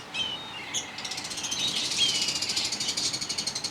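Diamond doves and lovebirds in a breeding setup chirp in a steady, rapid run of high calls over a low background rumble, fairly close and continuous.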